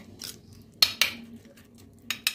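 A spoon stirs yogurt with Kashmiri chili powder in a bowl, giving a few sharp clinks and light scraping taps against the sides at close range, with no voices.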